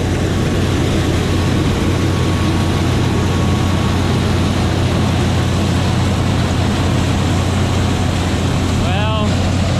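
An International combine harvester powered by a Cummins engine runs steadily in the field, a loud continuous engine drone with broadband rumble throughout, and a brief sweeping whine near the end.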